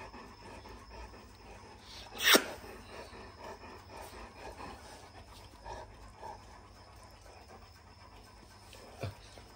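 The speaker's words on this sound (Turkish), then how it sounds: "Nefes alışverişi bile değişiyor Mia dediğimde." A Boerboel or Bully Kutta dog panting softly and steadily close by, with a brief sharp rustle early on and quiet surroundings.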